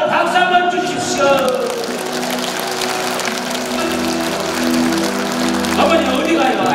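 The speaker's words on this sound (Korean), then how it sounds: "박수 한번 주십시오" Audience applause at a pumba performance on the second day of a festival in Yongin, clapping from a crowd mixed with music and voices, a steady wash of sound throughout.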